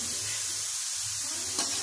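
Potato chips frying in hot oil make a steady, dense sizzle with crackling bubbles, close and continuous.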